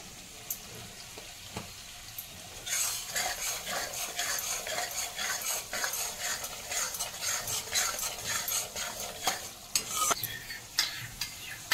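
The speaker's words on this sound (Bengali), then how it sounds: "এখন আমি মশলা ভাজার সময় একটু এক চিমটি হিং" Spices frying in a pan with a pinch of asafoetida, a soft sizzle under frequent scraping and stirring clicks of a utensil against the pan, close and fairly quiet with no talking.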